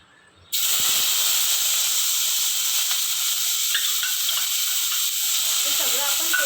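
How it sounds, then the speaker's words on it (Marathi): Tomatoes sautéing in hot oil for a hotel-style chhole curry: a loud, steady hiss and sizzle bursts in after a brief quiet start and continues evenly throughout, with faint scraping clinks near the end. "फक्त टोमॅटो परतून घ्यायचा."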